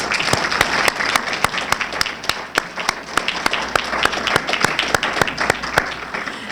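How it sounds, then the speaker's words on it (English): Audience applause at a civil rights symposium, a steady dense patter of many hands with a few sharper, closer claps standing out, sustained at an even level throughout. "Please give them a round of applause."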